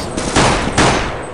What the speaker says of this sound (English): Pistols are OP as heck.